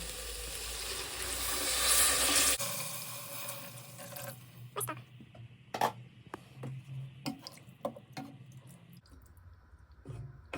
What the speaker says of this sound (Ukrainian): І далі нам треба це залити водичкою, щоб воно покрило наше м'ясо.